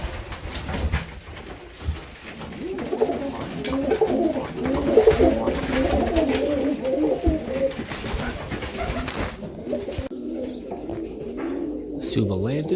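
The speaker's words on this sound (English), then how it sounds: "We've got two up there. You can hear them." Serbian Highflyer pigeons coo repeatedly in low, rolling phrases at a loft, close and steady, with outdoor background noise throughout.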